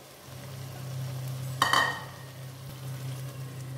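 Masala paste with a handful of mint leaves being sautéed in a pan for vegetable biryani, a steady low hum with a brief louder burst of stirring and sizzling midway.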